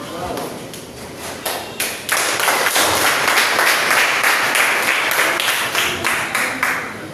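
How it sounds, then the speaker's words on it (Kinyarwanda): An audience at a student graduation ceremony claps together, loud dense applause swelling after a quieter start and continuing steadily with scattered individual claps. "mwiha amashyi"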